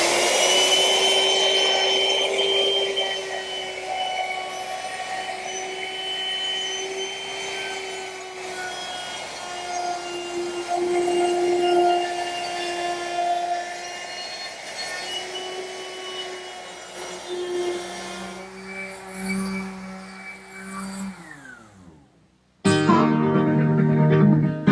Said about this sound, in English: There's no better time than now to round over the edges of the side pieces.